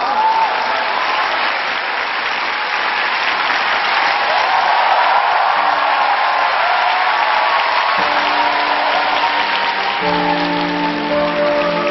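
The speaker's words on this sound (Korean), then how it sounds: "뜨거운 박수로 맞이해 주시죠" A large studio audience applauds loudly and continuously to welcome a duo to the stage on a Korean TV music show, a dense wash of clapping that holds throughout while band instruments begin to sound softly beneath it.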